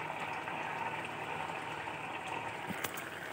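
A vegetarian curry of potato, eggplant and gourd simmers in a pot, a steady low bubbling and gurgling with a small pop near the end, close but quiet with no voices.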